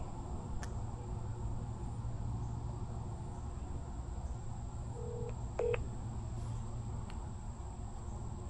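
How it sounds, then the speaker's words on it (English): A phone dials Trex customer service with a few short keypad tones, clear against a quiet background of steady insect-like hum and faint traffic. "let's give Trex another phone call"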